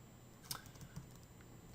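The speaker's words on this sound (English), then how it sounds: "And I'm going to type in" Typing on a computer keyboard, a few soft close key clicks in a quiet room.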